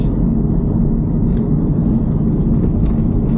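A car driving along a bendy suburban road in West Didsbury, with a steady close engine hum and tyre rumble and no voices.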